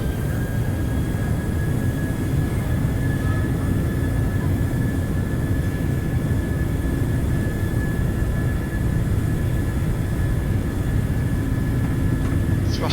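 A PMDG Boeing 737NG's jet engines in Microsoft Flight Simulator at takeoff thrust on the runway, a steady, loud, broadband roar with a low rumble and a thin high whine that holds constant throughout.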